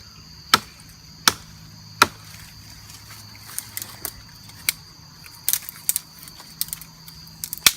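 Sharp, distinct chopping strikes cut the ends of a wooden stick at an angle outdoors in the rain, three evenly spaced blows at first, then lighter irregular knocks and taps.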